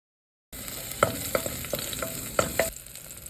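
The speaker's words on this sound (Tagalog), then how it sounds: "Igisa yung ahos." Garlic sautés in hot olive oil in a pan, a steady close sizzle broken by several sharp clinks and scrapes of a utensil stirring, with no voices.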